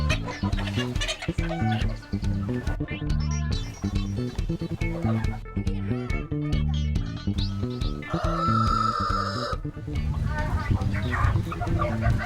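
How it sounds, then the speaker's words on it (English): Kienyeji chickens cluck and squawk as they are chased around a farm, their calls scattered throughout and partly buried under loud background music. "I've been busy chasing the chickens."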